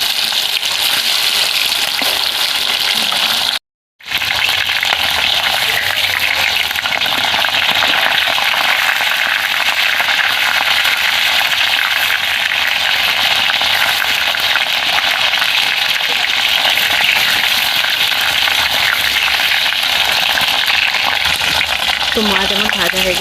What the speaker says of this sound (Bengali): এবার আমি মুড়ো থেকে ভেজে নেব